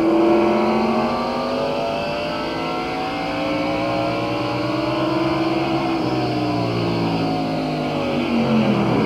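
A race car engine drones loudly and steadily at a speedway as the car pulls away in gear, its pitch rising and shifting over several seconds, close and dominant with no voices.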